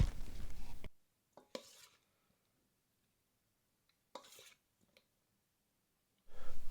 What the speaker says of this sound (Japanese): お皿に先ほど1時間置いたトマトを盛り付けていきます。